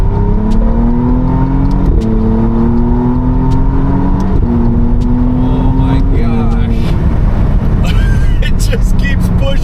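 A 2025 McLaren Artura Spider hybrid supercar with 691 horsepower accelerates hard from inside the cabin, its loud engine climbing through repeated upshifts in a sawtooth rhythm while someone talks over it.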